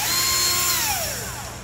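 A handheld electric power drill whirs loudly at close range, its high motor whine holding steady and then winding down as the trigger is released, with no talking over it.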